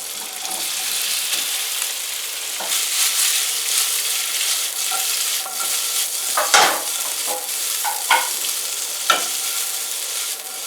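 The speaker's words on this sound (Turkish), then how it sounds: "Şimdi tavamızı sallayarak kızartmamız lazım" Steady sizzling of meatballs frying in a shaken pan, with occasional soft clinks and scrapes of the pan, no talking.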